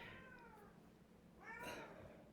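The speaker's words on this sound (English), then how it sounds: "I don't know what my cat's crying about" Two drawn-out cat meows, the first fading and the second louder, separated by a short pause over a low background hum.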